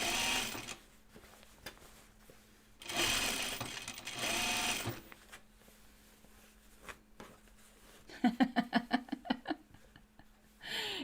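A sewing machine stitches a Kelly anorak in several whirring runs with pauses, ending in a short burst of rapid, pulsing stitches, fairly faint and close.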